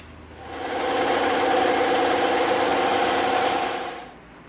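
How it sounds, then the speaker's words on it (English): A bandsaw cutting through a block of EVA foam, a steady loud motor whine that swells as the blade runs through the cut for about three seconds, then fades, with no talk. "we're gonna cut this thing right in half, all right? So here we go, over to the bandsaw."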